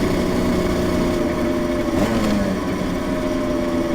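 A freshly rebuilt Yamaha TZR 250 3XV two-stroke motorcycle engine idles steadily and close by, a continuous buzzing drone with a slightly raised idle and a brief rise in pitch partway through.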